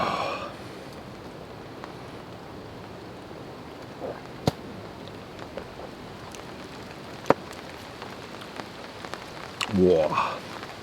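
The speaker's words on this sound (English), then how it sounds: "that sounds like rain" Steady rain pattering on a canvas baker tent in Connecticut woodland, a dense continuous hiss with occasional sharper drops, close and moderately loud, with no talk.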